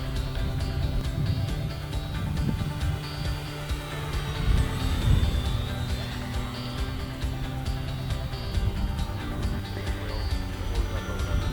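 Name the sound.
electric RC P-51 Mustang warbird model plane flying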